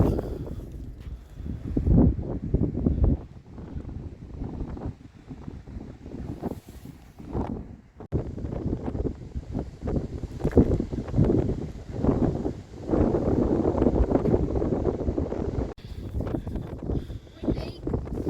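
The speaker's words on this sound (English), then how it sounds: "it may be windy, but it's amazing" Wind gusts across an open sandy beach, rumbling and buffeting the microphone in uneven bursts while a person talks over it throughout.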